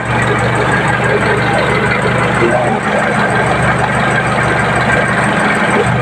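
A vehicle engine idles loudly and steadily up close, a constant low rumble with a mechanical hum throughout.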